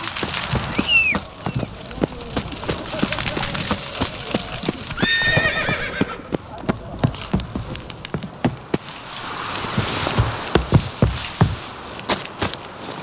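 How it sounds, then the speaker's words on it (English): A white horse in the video game Witcher 3 clip-clops along with a steady hoof rhythm, lets out a loud close whinny, and jangling tack sounds among game noise. "Oh, white horse."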